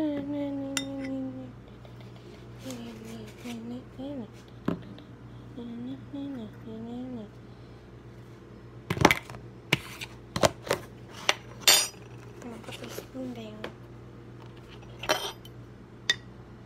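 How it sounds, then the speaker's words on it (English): Cutlery clinks and rattles as a spoon is grabbed while chocolate milk is being made, a run of bright, irregular clinks and clatters in the second half, with a voice speaking earlier in the clip. "I'm gonna grab a spoon."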